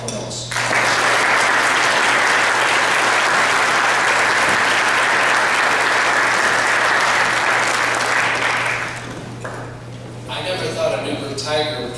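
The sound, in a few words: audience applause welcoming a congressional nominee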